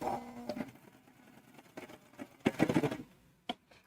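A twin-needle sewing machine slowly stitches a T-shirt hem, with short uneven bursts of soft mechanical chattering, the busiest run near the end, set apart by quiet pauses.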